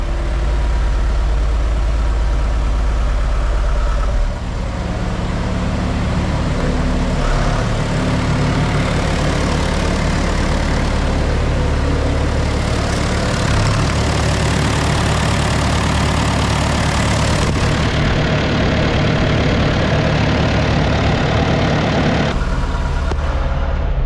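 A John Deere tractor that starts easily but struggles to hold its idle runs continuously nearby, a loud, steady low engine drone with slight shifts in tone.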